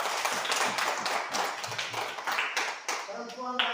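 Classroom of students clapping hands together, a dense burst of small-group claps with voices talking over it throughout.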